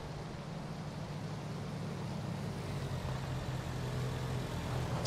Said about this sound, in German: Ein Auto.